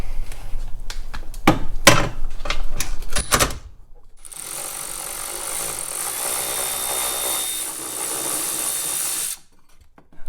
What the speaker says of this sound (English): we're going to come in here with the 16mm. We got to remove this bracket here